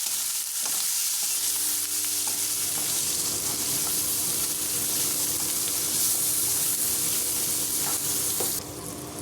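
Tomatoes seasoned with salt and garam masala being stirred in a frying pan, with continuous close sizzling and scraping of the spoon across the pan, steady throughout with no talk.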